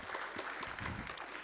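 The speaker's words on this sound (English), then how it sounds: "Let us all clap for all the Tilaks, small, big, and bigger." An audience at a medical summit of doctors in Mumbai claps in a short, soft burst of scattered applause heard from a distance.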